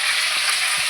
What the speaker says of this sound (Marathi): जिरं ठेवलेलं आहे भाजायला. आणि त्याच्याबरोबरच आपण थोडासा कढीपत्ता पण घालून घेऊया.